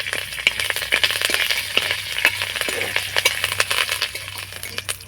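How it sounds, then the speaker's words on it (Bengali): A tempering of cumin, black mustard seeds, broken dry chili and curry leaves fries in hot oil, crackling and popping in dense, irregular bursts close by with gentle stirring and no voices. "হালকা করে নাড়াচাড়া করে ফোড়নটা ভেজে নেব।"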